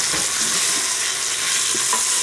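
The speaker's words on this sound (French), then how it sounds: "On va remuer. Bien mélanger." Spinach and lentil soup in a pot is stirred over the heat, giving a continuous close hiss and sizzle with faint scraping touches of the spoon.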